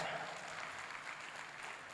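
A crowd at an agricultural summit claps continuously for the Vice Chancellor, a broad wash of applause at a moderate distance that holds steady before thinning slightly toward the end.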